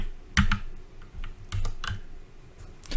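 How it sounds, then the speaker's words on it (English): Computer keyboard keys being typed on a Windows 10 PC, a short burst of separate clicks and taps at close range with no talking. "when we hit the Window key again, we can type disk"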